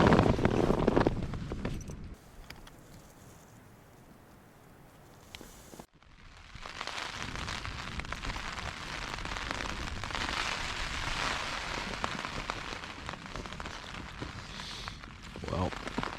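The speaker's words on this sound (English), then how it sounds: "it looks like the wind and rain have arrived right on time" Wind and rain hit a tent at a cliffside campsite at night. The roar is steady and broadband, eases for a few seconds, then returns strongly with gusty rushing and rain noise.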